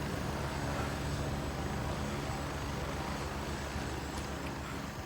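Helicopter in the video game Gray Zone, a constant dense low rumble of rotor and engine filling the whole stretch, loud and unbroken with no voices.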